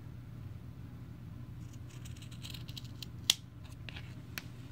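Scissors snip through crochet yarn ends on a placemat, a few sharp close clicks, one louder than the rest, against a quiet steady background hum.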